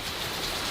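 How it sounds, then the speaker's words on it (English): Rainstorm pouring outside a house: a short, steady wash of dense hissing rainfall, even and fairly loud, with no voices. "having a nice rainstorm"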